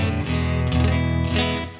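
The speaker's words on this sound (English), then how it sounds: "Fender deluxe reverb on the vibrato channel with the correct cab for that setup, and then it's just got a grey compressor on it." Electric guitar played through a Headrush modelled Fender Deluxe Reverb on the vibrato channel with a compressor and spring reverb, a sustained strummed chord ringing with warm wobbling shimmer and a reverb tail, solo and close.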